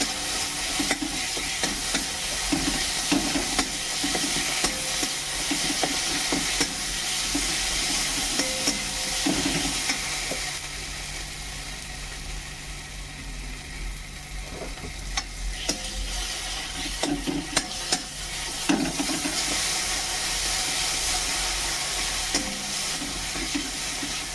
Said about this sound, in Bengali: এবার প্রথমে রসুন বাটাটা দেবো আর আদা বাটা দেবো, তারপরে এটা কষিয়ে নেবো।